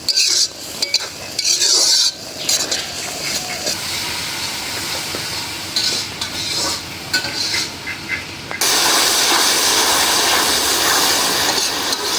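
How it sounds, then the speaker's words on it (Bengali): Spices including coriander and cumin powder stirred and fried in a pot for khichuri, loud continuous sizzling with rough scraping stirs, the frying hiss swelling louder toward the end, no speech. "মশলা কষাই নিলাম"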